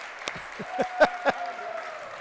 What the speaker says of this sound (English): And there's the cheer.